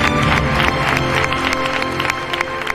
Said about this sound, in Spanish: Pido el aplauso, por favor, porque este homenaje también es para ella.